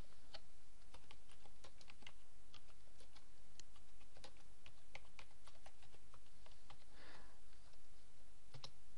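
Steady, fast tapping on a computer keyboard while text is entered into a search bar, crisp close clicks running continuously under a faint background hiss.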